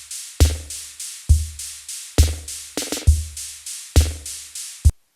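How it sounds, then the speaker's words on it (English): Hand-programmed drum machine beat with punchy kick and snare hits in a steady pattern, about eight dry, close, loud strikes that cut off abruptly near the end, no voices. "I like to just kind of hand program it in Pro Tools myself. And so that's what this sounds like."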